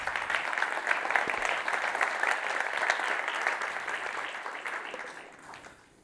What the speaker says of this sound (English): Another round of applause for Adrian.